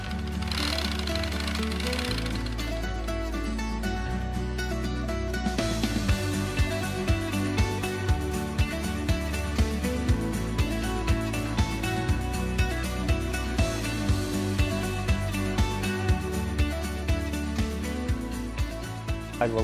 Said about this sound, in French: Ça, c'est une machine, ils appellent ça point chain.